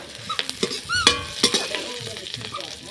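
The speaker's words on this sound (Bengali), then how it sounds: "এই জন্য সব ফোড়ন দেওয়া হচ্ছে।" Whole spices crackle and sizzle in hot oil as tempering for cabbage ghonto, with sharp pops, a metal spoon clinking against the pan and a steady frying hiss.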